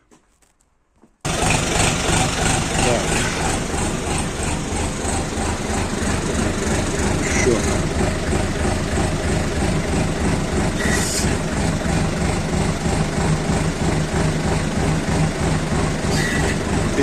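A DTZ 5404 tractor's engine starts after a moment of quiet after a hydraulics repair, then runs loud and close in a steady, rhythmic diesel clatter for the rest of the time, with no talking.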